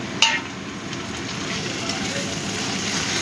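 Chopped tomato dropped into onions frying in a pan, a brief clatter at the start followed by a steady sizzle that continues throughout.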